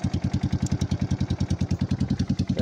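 An old Kawasaki Bayou ATV engine idles with the choke fully off, a steady, close, even chugging pulse repeating rapidly with no talk over it.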